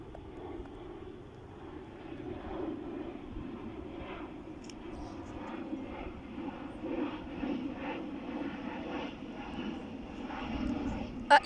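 A small private jet passes overhead on its landing approach over a church area in Eysines, a steady distant engine roar holding level throughout beneath a voice talking.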